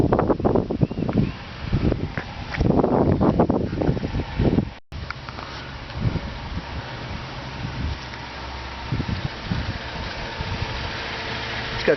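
A 2008 Cadillac CTS engine idles quietly and steadily, a low even hum heard alone after several seconds of louder handling noise and a brief dropout near the start.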